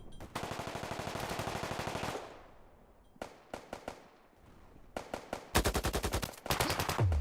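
Rapid automatic gunfire from the video game Deep Rock Galactic, loud and close, with long sustained bursts, short choppy volleys and a final fast burst, no talking.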